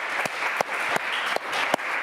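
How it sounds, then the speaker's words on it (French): An audience applauds Martine at a launch evening for an embroidery encyclopedia, a steady wash of clapping with a few sharp, nearer claps standing out at roughly regular intervals. "on peut vraiment applaudir Martine."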